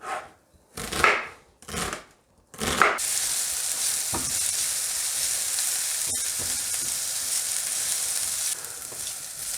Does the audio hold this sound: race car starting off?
no